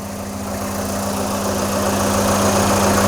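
A freshly rebuilt car engine idling smoothly and steadily, a constant low hum with a faint rhythmic throb, heard close up with no talking.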